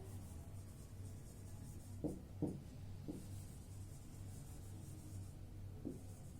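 A few short scratchy strokes of chalk or pen writing on a classroom board, faint and close, spread irregularly over a steady low background hum.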